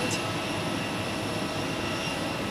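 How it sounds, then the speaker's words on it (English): Airbus A350 airliner on final approach at Zurich Airport, a steady, loud broadband engine roar with no break. "And just on time we see the A350 now on final."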